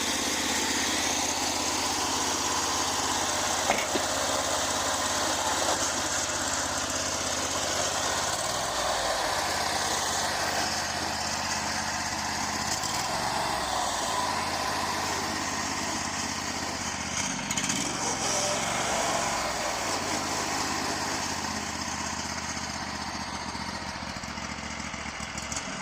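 A truck powered by a Predator 670 small engine runs continuously with a steady, buzzy mechanical drone, pulling off in third gear without clear revving.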